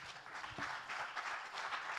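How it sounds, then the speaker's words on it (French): Audience applause fills a plenary hall at the close of a conference debate on Euro-Mediterranean-African partnership, a steady, dense clapping from a sizeable crowd sustained throughout without talk. "je vous demande encore une fois d'applaudir nos orateurs"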